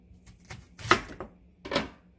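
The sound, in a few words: knife chopping onion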